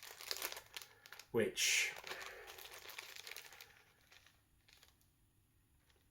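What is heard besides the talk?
resealable plastic bag from figure packaging crinkling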